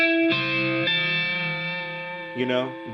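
A distorted electric guitar sounds a few sustained chords voiced with wide, open intervals, each ringing out with reverb and echo, the last one changing near the end, with no talking over them.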